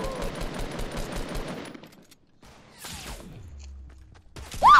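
Rapid automatic sniper and weapon fire from a Fortnite squads match, a dense burst of crackling shots for the first couple of seconds, then quieter game sounds and a sharp tonal ping at the end.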